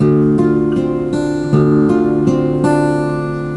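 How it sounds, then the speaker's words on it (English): A guitar plucks a repeating fingerpicked pattern, notes evenly spaced and ringing together, close and fairly loud, with no talking. "we're going to be plucking the 6th string to the 2nd string"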